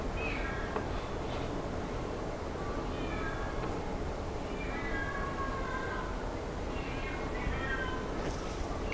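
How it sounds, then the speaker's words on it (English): A house cat meows repeatedly, several drawn-out calls spread across a steady background hum indoors. "That's a cat."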